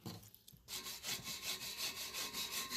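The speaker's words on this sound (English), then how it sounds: "Sanding an old tractor muffler?" An old muffler from a John Deere two-cylinder tractor is sanded by hand, starting after a brief pause and settling into a close, rhythmic rasping of repeated back-and-forth strokes, roughly two per second.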